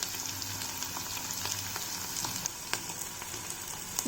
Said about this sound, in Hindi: 2 मिनट घी में ड्राई फ्रूट्स फ्राई करने के बाद